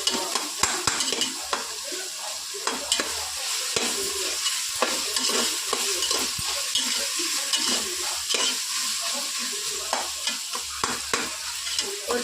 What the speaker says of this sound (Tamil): இப்போ வந்து வெங்காயம் போட்டுக்கலாம். வெங்காயம் நல்லா வதங்கணும்.